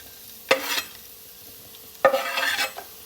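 Garlic drops into hot olive oil in a pan, with two loud bursts of sizzling and spattering separated by a quiet pause.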